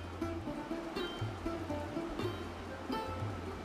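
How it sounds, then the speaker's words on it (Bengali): Water pours steadily through a strainer from freshly washed cumin seeds, a continuous close splashing trickle that holds at an even level throughout, with no one speaking. "এবার আমি একটা ছাঁকনির সাহায্যে জিরেগুলো থেকে জল ঝরিয়ে নেব"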